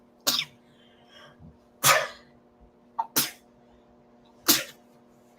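Four sharp sneezes, spaced about a second apart, each a sudden loud burst with quiet breathing between.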